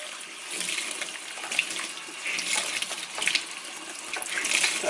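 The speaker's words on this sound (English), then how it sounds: "Sorry, it's a sink." Water running steadily from a sink tap as a sponge is rinsed and squeezed, a continuous close splashing hiss with small surges, no voices.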